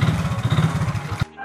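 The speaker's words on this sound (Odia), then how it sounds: "ସାର୍ ତ ଗାଡ଼ି ଷ୍ଟାର୍ଟ କଲେଣି" A nearby vehicle engine chugs in a rapid, rhythmic putter for just over a second and then cuts off abruptly, with no talking.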